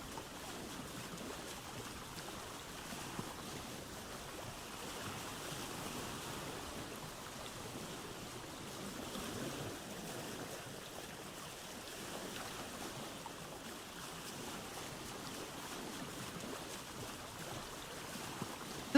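A boat glides across water in Vintage Story, a soft continuous wash of waves and lapping water with a faint breezy hiss, quiet and even, with no talking.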